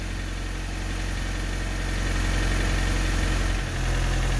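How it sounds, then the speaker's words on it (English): A 1988–1991 Honda Civic engine idles steadily at close range, a constant low mechanical hum and vibration with a brief dip near the end. "the engine needs to be on for this"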